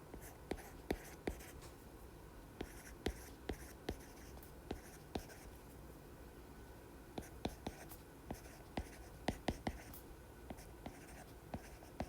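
A pen or pencil writes an English answer by hand. Close, soft scratching strokes tick along in an irregular rhythm while a quiet voice speaks at a low level underneath.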